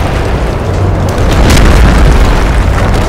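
Artillery fire rumbles through a Sacred 3 battle, a loud, continuous deep explosive roar with bursts swelling in the middle, no voices.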